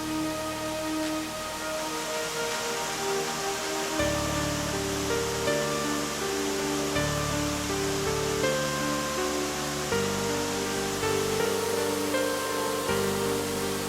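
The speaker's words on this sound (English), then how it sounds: "The labyrinth of larger and smaller lakes contains numerous waterfalls and cascades" Continuous broadband rush of many waterfalls and cascades tumbling among a maze of lakes, steady and enveloping at moderate distance, with faint tonal music layered underneath.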